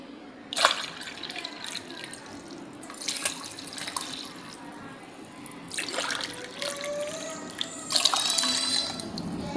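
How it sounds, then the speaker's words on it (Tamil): Water is poured into a glass for a screwpine (thazhampoo) sherbet, coming in several uneven splashing and trickling bursts with faint clinks, close by and with no talking. "இந்த கிளாஸ் அளவுல ரெண்டு கிளாஸ் வந்துட்டு நான் தண்ணி ஊத்திக்கிறேன்"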